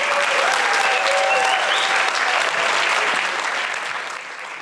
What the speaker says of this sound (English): big round of applause for Rod, everybody